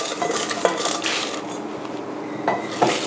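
Repeated dull thuds and clinks of a pestle pounding dried chilies, galangal, lemongrass and kaffir lime leaves into curry paste in a mortar, irregular and close, with occasional sharper knocks against the bowl.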